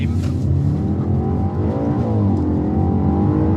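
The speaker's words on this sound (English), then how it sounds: "Got a little bit of wheel spin there. The engine is just unbelievable" An Audi RS4 (B8) engine roars loudly up close, revving hard as it accelerates with wheel spin and rising pitch, a faint voice briefly underneath.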